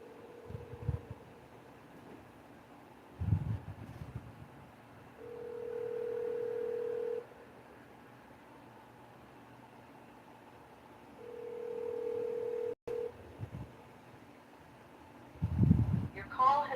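Telephone tones on a call before it forwards to voicemail: two steady mid-pitched beeps lasting a couple of seconds each, separated by gaps, with faint clicks and brief murmurs around them.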